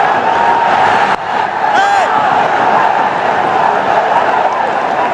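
A large cricket crowd roars and cheers continuously in a big open stadium during a Pakistan versus Bangladesh T20 match, loud and sustained, with a brief dip partway through.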